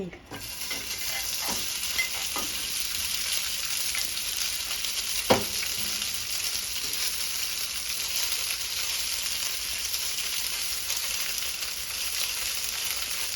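Gyoza dumplings fry in a pan of oil, giving a constant close sizzle with a few brief clicks and stirring sounds, no talking.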